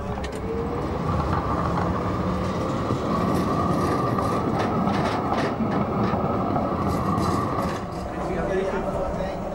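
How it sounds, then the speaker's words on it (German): Historic Type N trams from 1963 rolling on rails between Schwanheim and Hugo-Junkers-Straße in Frankfurt, a steady loud rumble with rail clatter and faint wheel squeal throughout, with voices talking underneath. "Die historischen Straßenbahnzüge sind den ganzen Sonntag lang zwischen Schwanheim und der Hugo-Junkers-Straße unterwegs."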